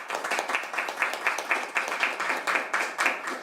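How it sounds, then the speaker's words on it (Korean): Crowd applause at a Korean political gathering, a dense continuous clapping from many hands with rhythmic swells, fairly close and steady throughout. "박수 한번 치세요."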